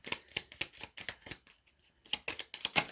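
Close, quiet rhythmic riffling of tarot cards being shuffled by hand, a quick burst of strokes, a short pause, then more shuffling.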